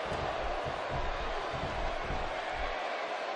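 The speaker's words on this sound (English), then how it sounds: "This crowd going crazy for Stone Cold Steve Austin" A wrestling crowd in WWE 2K16 roars for Stone Cold Steve Austin against Mr. McMahon, a low, continuous, fairly faint wash of cheering with no distinct peaks.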